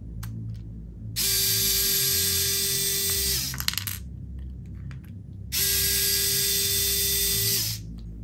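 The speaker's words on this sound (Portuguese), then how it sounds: "Arrancar esses três parafusos aqui, ó." Screws are backed out of the differential case of a Tamiya TA0 remote-control car, heard as two long, loud, whining bursts of a powered driver close by, with a short mechanical clatter and quiet between them.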